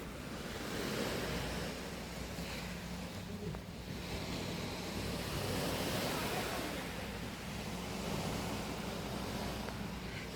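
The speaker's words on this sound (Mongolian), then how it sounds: "Далайн дуу чимээ яасан гоё юм бэ?" Sea waves wash steadily onto an Okinawa shore, a continuous broadband roar that swells and recedes in slow surges, close and loud, with a touch of wind across the microphone and no voices.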